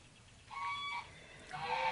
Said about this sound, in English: I purchased some ducklings from the farm store